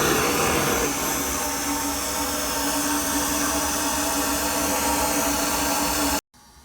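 A high-power blower on a wood burner flue roars in a steady, dense whoosh with a low hum underneath, loud and close, running continuously before cutting off abruptly near the end.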